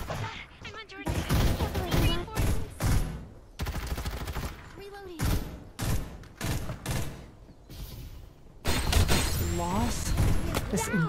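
Rapid bursts of video game gunfire in Farlight 84 crackle and pop repeatedly, some in quick automatic volleys, mixed with excited voices talking over the shooting.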